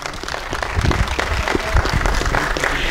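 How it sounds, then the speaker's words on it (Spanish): An audience at a talk on teachers in post-revolutionary Mexico applauds a cartoonist, close and loud, with irregular individual claps and some low rumble and crowd noise mixed into the steady clapping. "vamos a mandarle un aplauso desde aquí a Rogelio Naranjo."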